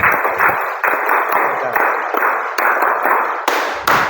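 Clapping for a correct answer during a classroom riddle quiz: a loud, close run of regular claps repeating about twice a second, with brief gaps between bursts.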